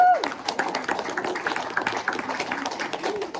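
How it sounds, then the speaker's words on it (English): An indoor training-session audience claps, a steady patter of many hands, moderately loud and close, with a short whoop or voice at the very start. "Let's give them a round of applause."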